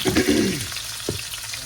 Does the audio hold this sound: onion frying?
yes